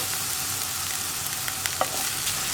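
Sliced okra frying in an open pan over a medium flame for vendakka mezhukkupuratti, with a steady oily sizzle and a few sharp spatula scrapes and clicks as it is stirred.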